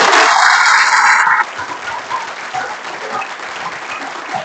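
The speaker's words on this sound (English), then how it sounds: "Let's give them a round of applause" An audience at a city council meeting in North Augusta bursts into applause, loud at first and then dropping to a softer, sustained patter of clapping.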